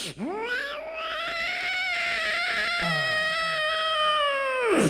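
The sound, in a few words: voice imitating a cat reacting to another cat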